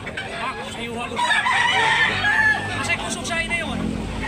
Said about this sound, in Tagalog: Limon ang klaseng manok.